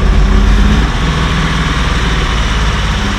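A rough, rumbling Datsun 280Z engine with a 4-barrel carburetor idles close by, low and uneven, with a steady throb throughout.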